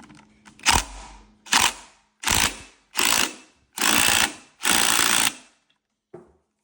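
Impact wrench hammering on a flywheel nut during a Tillotson 267cc small engine build, in about six short bursts that grow longer, with sharp rattling impacts and brief pauses between each pull, then a faint final tap.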